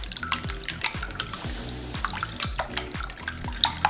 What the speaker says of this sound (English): I have 11 eggs here, and I'm just going to give it a quick whisk.